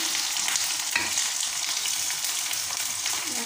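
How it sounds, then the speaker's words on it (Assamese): Onion and garlic fry in hot oil with a steady loud sizzle, close and continuous, with a brief stir near the start. "তেল গৰম হৈছে, পিঁয়াজ দি দিছোঁ। নহৰু দি দিলোঁ।"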